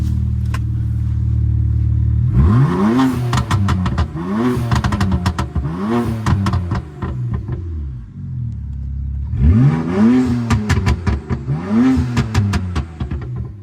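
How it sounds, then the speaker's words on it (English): A turbocharged BMW 335 engine revs hard in repeated bursts, rising and falling, with crackling exhaust pops between throttle blips, loud and close. "you guys can hear the turbos and everything too"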